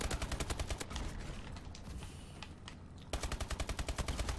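Rapid automatic gunfire from the video game Call of Duty: Advanced Warfare, loud bursts of evenly spaced shots at the start and end with a denser, noisier stretch of firing between.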